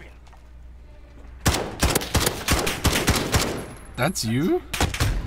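Rapid, loud gunfire rattles in bursts in the Modern Warfare video game, with a brief electronic sweep near the end and players talking over it.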